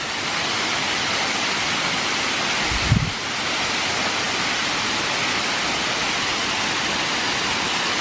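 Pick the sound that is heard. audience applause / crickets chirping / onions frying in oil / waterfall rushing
waterfall rushing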